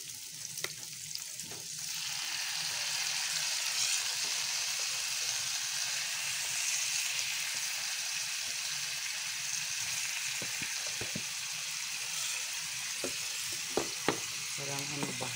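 Chicken pieces for adobo with vegetables hit a hot pan and start a loud, steady sizzle and crackle after a quiet start, frying on alone with a few sharper pops near the end.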